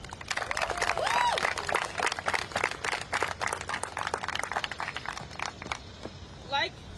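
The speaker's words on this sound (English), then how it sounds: "So everyone give a round of applause for our next speaker." A crowd at a student walkout protest in Washington, D.C. breaks into sustained, dense clapping for the next speaker, loud and close, with a few whoops mixed in before it thins out near the end.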